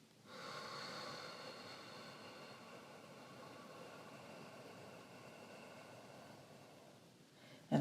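A long, slow exhale during a guided breathing exercise, a soft steady breathy rush lasting several seconds, close and quiet, fading out at the end.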